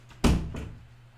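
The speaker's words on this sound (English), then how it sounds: "I'll shut the door." A single solid thunk of a door being shut indoors, close and fairly loud, followed by a short softer knock and a low hum in the room.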